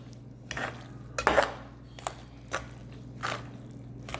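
Eggs and fritter batter being mixed in a bowl, a few separate wet clacking and squishing strokes of a utensil, close and fairly quiet, with pauses between them.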